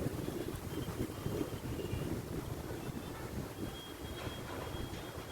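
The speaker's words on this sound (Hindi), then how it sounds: "हवा बहुत तेज़ चल रही है" Strong outdoor wind buffets the microphone with a continuous low, rumbling roar that stays loud and uneven throughout, with no voices.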